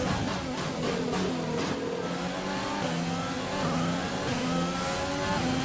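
An F1 car in the F1 2020 racing game takes a corner, its high engine note rising and falling steadily through gear changes, loud and continuous with no pauses.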